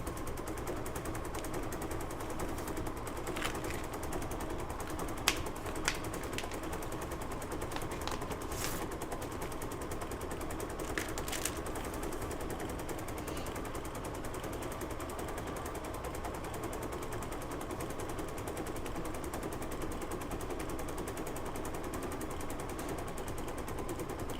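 An embroidery machine stitching a Kimberbell appliqué design, running as a steady, dense mechanical hum and rapid needle clatter with occasional sharper ticks, continuous and even throughout.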